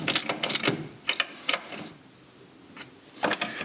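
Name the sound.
ratchet tightening bolts on Classic Mini steering and hub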